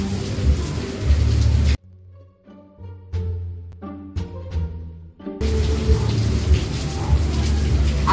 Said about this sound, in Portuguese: a gente não sabe quando a chuva vai parar